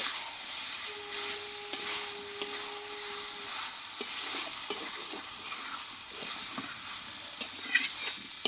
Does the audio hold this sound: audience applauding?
no